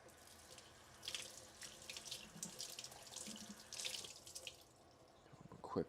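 Running tap water rinses fresh oregano in a sink, splashing and trickling in uneven bursts at close range, fairly quiet, before the flow eases off near the end.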